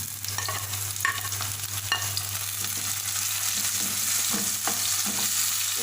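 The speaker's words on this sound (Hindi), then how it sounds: "अब मैं इसमें डाल रही हूँ 2 दरमियाने साइज़ के टमाटर।" Tomatoes dropped into onions frying in a pan give a steady close sizzle with a few sharp clicks of a spoon on the pan, continuing alone with no talk.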